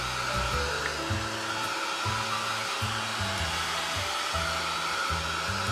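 A hair dryer blows steadily up close, drying wet paint on a Gelli-printed canvas bag, a constant airy roar whose pitch wavers as it is moved about.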